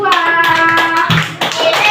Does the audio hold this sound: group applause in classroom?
yes